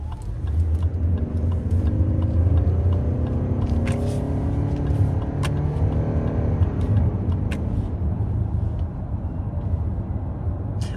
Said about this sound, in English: Should we do one last acceleration sound test here?